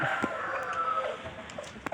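Roosters crowing at a rooster farm, a sustained crow ringing out over a continuous backdrop of farmyard clucking and fowl noise, with short bursts of other birds around it.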